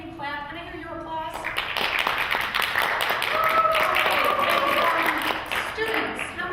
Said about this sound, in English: Can I have you clap?